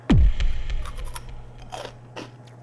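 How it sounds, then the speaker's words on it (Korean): Crunchy spicy Cheetos being bitten and chewed up close: one loud sharp crunch, then a run of fainter crackling chews fading over a couple of seconds. "그래서 이게 굉장히 바삭바삭한 치토스."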